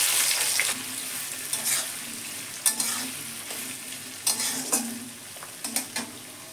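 Sliced onion frying in hot oil with curry leaves, cardamom, cloves and cinnamon, a steady close sizzle broken by repeated scraping stirs of a spoon against the pan, no speech.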